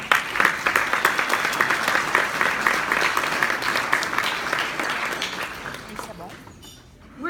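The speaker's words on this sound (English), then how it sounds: "Can you give yourselves a round of applause?" A room full of people applauds at an Our Family Coalition community event in 2017, a loud, thick burst of clapping that slowly thins and fades out near the end.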